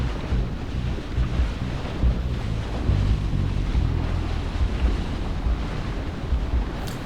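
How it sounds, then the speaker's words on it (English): Strong gusting wind buffets the microphone at a beach during kitesurfing, a loud, continuous roar with low rumbling bursts and ocean wash beneath, no voices. "And it's pretty windy"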